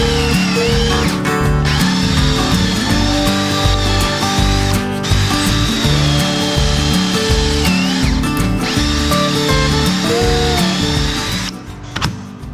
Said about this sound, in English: We'll drill right into here and drill right into here